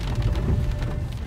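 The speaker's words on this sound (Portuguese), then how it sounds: "Muita chuva." Heavy rain drums on the body of a Ford EcoSport 4WD driving through a rural district, a steady dense wash of close patter with no talk.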